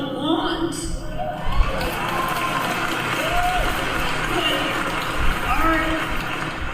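A rally crowd cheers and applauds for Kamala Harris: a continuous roar of voices with shouts and whoops rising over it, plus scattered clapping, and some talk mixed in.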